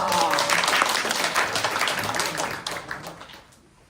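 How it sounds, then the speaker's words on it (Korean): Audience applause opens an improv comedy show at a theatre, a dense wash of clapping that holds steady and then thins and fades out toward the end, with no talk over it. "그러면 박수로 시작하도록 하겠습니다"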